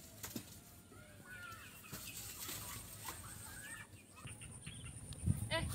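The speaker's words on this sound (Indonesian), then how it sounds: "Karim, ini ada ayam." Chickens in a village setting, clucking and scratching close by with some wing flaps and rustling, over a noisy outdoor background with a few sharp knocks.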